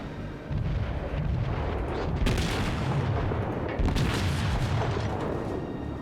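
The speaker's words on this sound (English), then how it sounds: "battleship shooting me from somewhere" Battleship guns firing in the naval combat game World of Warships: heavy booming blasts over a constant loud roar, with two stronger bursts and no talk heard.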